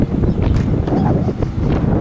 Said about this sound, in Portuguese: Mas tá ventando muito por aqui.